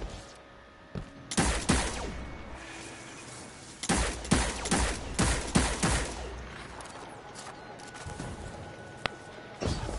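Gunfire from a gun in Destiny 2: loud, sharp shots in quick clusters, a burst early on and a longer rapid volley midway, with quieter gaps and a lone crack near the end.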